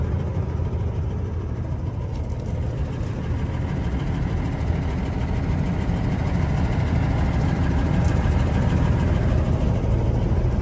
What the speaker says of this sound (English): Nothing sounds like a Cummins, nothing sounds like a Detroit.